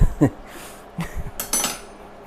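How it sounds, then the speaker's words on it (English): Metal spoon scraping and clinking against a pan while prying out a loaf of sourdough bread, a few sharp scrapes and knocks spaced apart. "Look, I'm not even using a spatula to get that bread out. I'm using a spoon."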